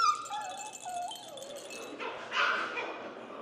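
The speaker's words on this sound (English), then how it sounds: "You can tell all of these puppies love to wrestle." Goldendoodle puppies yip and whimper while wrestling, with high, wavering whines followed by a short burst of sharper yips; the sounds are close and moderately loud, with no talk over them.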